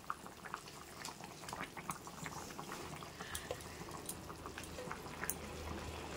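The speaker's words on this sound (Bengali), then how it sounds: "তো দেখো এখন কিন্তু মাংসটা টকবক করে ফুটে ফুটে যাচ্ছে।" Meat bubbling and boiling in a cooking pot, a steady close simmer of popping bubbles and soft crackles, fairly quiet with no talking.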